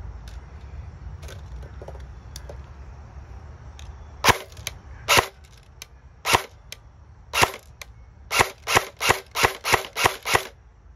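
Snow Wolf Barrett M107 Gen 2 airsoft AEG firing close up: a few sharp single shots spaced a second or so apart, then a rapid string of about eight cracks near the end, with no voices.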